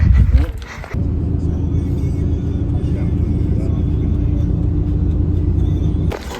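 Steady low engine rumble and road noise inside a tour bus on a day trip near the Grand Canyon West in Arizona, loud and continuous, with a brief louder burst at the start.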